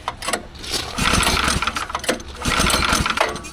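A go-kart engine is cranked and fires up, sputtering irregularly at first and then settling into a loud, ragged running chatter close by.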